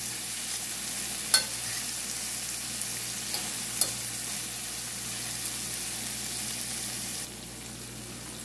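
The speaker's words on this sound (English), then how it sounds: "I'm just gonna allow these to fry up for a little." Scallion, thyme, onion, garlic and sweet pepper fry in oil, giving a steady low sizzle with a couple of sharp clicks from a utensil before the sound drops slightly near the end.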